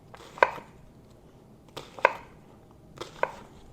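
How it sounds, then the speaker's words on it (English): An onion being diced into small cubes with a knife on a cutting board, heard as three sharp, close chopping knocks spaced about a second apart, with quiet between them and no talking. "we're going to cut our onion. We're going to cut it in small cubes"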